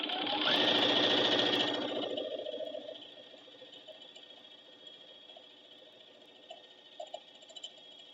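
A sewing machine stitches jelly roll quilt strips with a loud, steady whir for about two seconds, then settles into a quieter running hum with faint clicks and taps.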